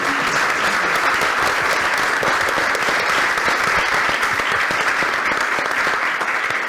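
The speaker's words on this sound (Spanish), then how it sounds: "para quienes pido un aplauso." An audience at a human rights panel discussion bursts into loud, dense, continuous clapping that holds steady throughout, with no talking over it.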